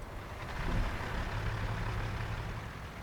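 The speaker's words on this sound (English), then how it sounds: "Gonna fire this truck up." A heavy truck engine in American Truck Simulator fires up and settles into a steady, loud diesel idle with a constant low rumble.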